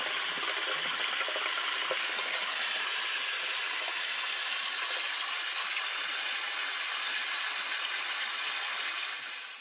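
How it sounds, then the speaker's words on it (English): Steady water rushing and splashing from a hose, a continuous broadband hiss that stays even throughout and fades slightly at the very end. "from this little garden hose, we're letting the water run in a low spot"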